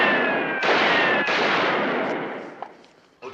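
Gunfire during a police standoff: two or three heavy shots in quick succession with booming reverberant tails, loud then fading, followed by quieter distant pops.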